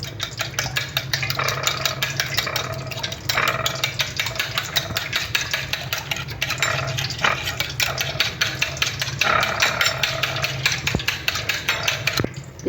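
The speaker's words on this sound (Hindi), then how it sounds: "अब इसको अच्छी तरह फेंट लेते हैं।" Egg mixture seasoned with black pepper and salt is whisked for chicken nuggets, a steady rapid clicking of the whisk against the bowl continuing throughout, close and fairly loud.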